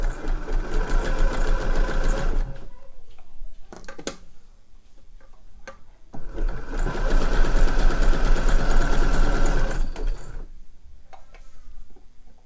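A sewing machine stitching together the fluffy lining pieces of homemade slipper boots runs in two steady, loud bursts of rapid mechanical whirring, separated by a short pause with light handling clicks.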